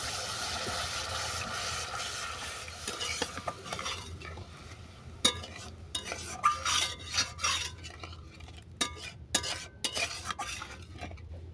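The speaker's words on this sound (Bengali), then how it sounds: "এরপর দিয়ে দেবো তিল বাটা জল" A utensil stirs sesame paste water into fried spice masala in a pan, starting with a sizzling hiss and then a run of close scraping, clinking strokes in an uneven rhythm.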